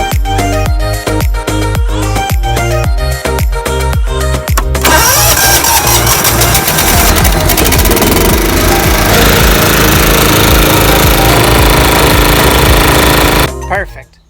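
A GT225 garden tractor engine cranks in a rapid chugging rhythm, then catches and runs loud and close with a rough, steady roar before cutting off abruptly at the end.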